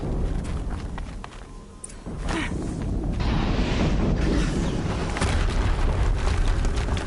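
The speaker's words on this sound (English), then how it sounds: "Another explosion." A second Horizon Zero Dawn explosion rumbles out in a dense, low booming wash that swells after a brief lull and keeps roaring steadily.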